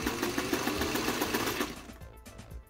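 A sewing machine stitching a centered zipper into a dress runs as a fast, steady mechanical whir up close, then slows and stops near the end.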